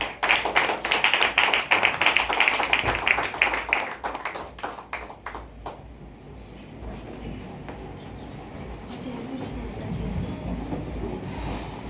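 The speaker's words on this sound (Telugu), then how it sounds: "గట్టిగా చప్పట్లు కొట్టి వారిని మన మధ్యకు ఆహ్వానిద్దాం." An audience claps loudly to welcome a pastor; dense, rapid applause fills the first few seconds, then thins out into scattered taps and quieter room sound.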